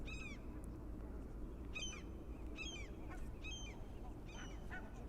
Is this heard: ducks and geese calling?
yes